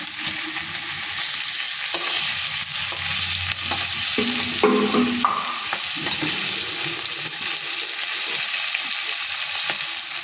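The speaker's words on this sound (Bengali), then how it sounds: "চিংড়ি মাছগুলো ভেজে নিচ্ছি" Prawns sizzle and crackle in a hot pan, with intermittent stirring and scraping sounds over a steady frying hiss.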